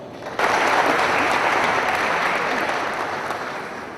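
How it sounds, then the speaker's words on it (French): Sustained applause from an audience of Catholic school staff and pastoral workers at a jubilee gathering bursts in and continues steadily, a dense wash of clapping without voices. "l'abbé Michel Gérard, que nous félicitons de nouveau pour son jubilé, qui mérite encore des applaudissements."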